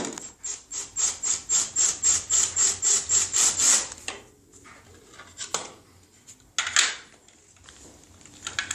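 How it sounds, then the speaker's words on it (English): A tool works at the rivets on Anovos Stormtrooper armor with a quick run of even, rasping strokes up close, then a few scattered scrapes and light knocks. "right now, I'm trying to cut these, drill these rivets out"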